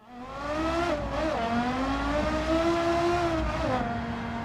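Porsche Carrera GT with a sports exhaust in Gran Turismo 7, its engine holding a loud, steady high-pitched wail with brief pitch dips as it shifts, continuous and close with no talk.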